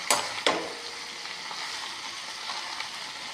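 Curry leaves are stirred in a hot pan with a steady close sizzle, opened by a couple of sharp scraping strokes, then a softer continuous frying hiss with faint occasional scrapes.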